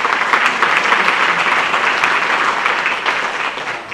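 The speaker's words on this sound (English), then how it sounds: "if we could give them a round of applause" Sustained applause from a sizable audience at a chamber of commerce meeting, a dense, steady clatter of clapping that holds throughout and eases slightly at the end.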